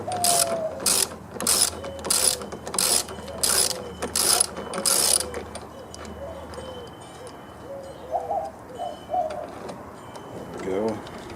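A ratchet wrench loosens 10 mm bolts on a Honda lawn mower, giving bursts of rapid clicking in a rhythmic series up close, followed by quieter tool handling and brief speech.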